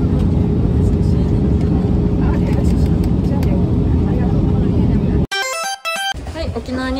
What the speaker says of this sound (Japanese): 飛行機最高